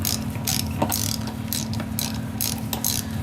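Ratchet turning a bolt on an inline-six Mercury outboard starter, a steady run of fast clicking pawl strokes with repeated bursts close to the microphone over a constant mechanical hum, no talk.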